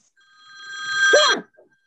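A single telephone ring swells in, a bright sustained bell-like tone that cuts off abruptly, with a faint blip after.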